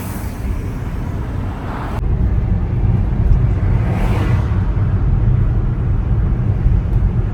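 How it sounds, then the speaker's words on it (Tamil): A modern bus on a small town street in the UK passes close by as a loud, steady low engine and road rumble that swells and holds, with no speech. "எத்தனை பஸ் எல்லாம் வருது மாடர்ன் பஸ் போகுது"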